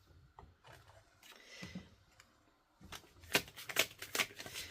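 Oracle cards being shuffled and drawn by hand during a pick-a-card reading: soft, intermittent rubbing and riffling at first, then a run of sharper, louder card flicks and snaps near the end, with no talking.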